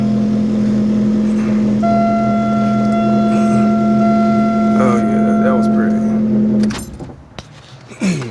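A 1999 Oldsmobile Alero 2.4L twin cam engine runs just after a starter replacement, holding a steady close idle hum for several seconds before cutting off near the end.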